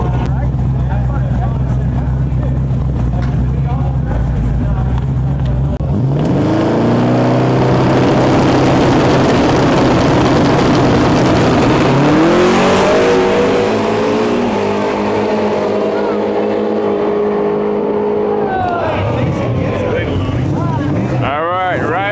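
Drag racing trucks launch side by side, engines roaring and climbing through rising revs and gear changes, loud and close, with a voice talking over the noise.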